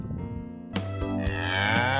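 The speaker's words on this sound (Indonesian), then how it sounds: "Suara tadi adalah suara hewan sapi." A cow lets out a single long moo, loud and close, rising and then holding a drawn-out tone with no speech around it.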